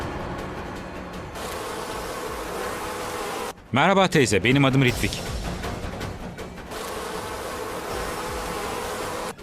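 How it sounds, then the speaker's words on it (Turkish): A steady insect-like buzzing drone, like a swarm of bees, fills most of the clip, broken midway by a burst of loud speech. "Arılar! Herkes kaçsın! Arılar geliyor!"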